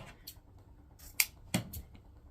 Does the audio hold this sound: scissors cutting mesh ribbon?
yes